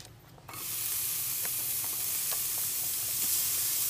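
Kimchi fried rice hits an overly hot pan and erupts into loud, steady sizzling that continues with crackles and pops, close by, with no talking.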